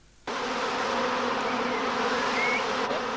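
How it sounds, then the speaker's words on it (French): A honeybee swarm on a low branch, being gathered into a beekeeper's collecting basket, starts buzzing abruptly and keeps up a dense, steady drone close by. "Les abeilles ne tarderont pas à monter dans le panier de récupération dont l'apiculteur leur a coiffé."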